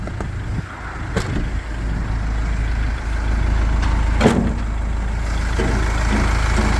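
A large Iveco 3.0 diesel truck engine from a 2011 car-transporter tow truck with 540,000 km, idling with a steady low rumble, close and continuous, with a couple of short clicks or knocks along the way.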